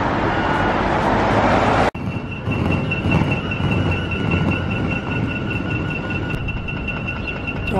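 Train at Hanko railway station in Finland, a steady, loud rolling rumble with a sustained high whine, after a brief broadband rush that cuts off abruptly; continuous and close, with no voices.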